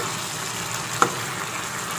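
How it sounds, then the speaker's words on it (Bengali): Chicken sautés in a pan for Kolkata restaurant-style biryani, a soft, steady sizzling hiss broken once by a single sharp click. "10 মিনিট ধরে আমি মাংসটাকে ভালোভাবে কষিয়ে নিয়েছি"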